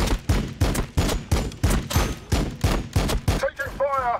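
Gunfire in the Warhammer 40000 Battlesector strategy video game comes as a steady run of about ten loud, evenly spaced shots. A brief electronic warbling effect follows at the end.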